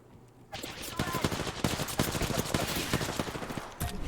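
Rapid bursts of automatic gunfire from a battle royale shooter, sharp cracks in quick clusters that start abruptly and keep going nearly nonstop, loud and close.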